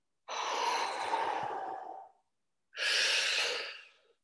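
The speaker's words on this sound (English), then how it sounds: "got to take a deep breath" A person takes one long, deep breath in and then breathes it out, two loud, close airy rushes separated by a short pause, with no talking.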